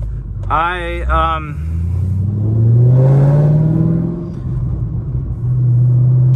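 Supercharged 2015 Camaro SS 2SS with long tube headers and a tune cruising on a highway, a loud close engine drone that rises in pitch as it revs up, then settles back into a steady low rumble.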